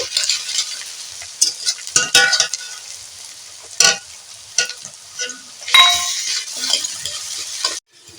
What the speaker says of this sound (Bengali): এই কেটে রাখা পেঁয়াজগুলো ভালো করে ভেজে নেব